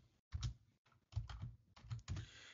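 Typing the ifconfig command on a computer keyboard in a Linux setup: several quick bursts of close, clicky keystrokes separated by short pauses, with no talking.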